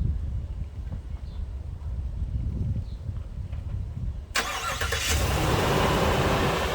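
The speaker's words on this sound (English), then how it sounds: "A remote starter." A 2022 Chevy Silverado 2500HD diesel truck, fired by remote starter, cranks and catches about two-thirds through, then settles into a loud, close, rumbling idle after a quieter stretch of low ambient noise.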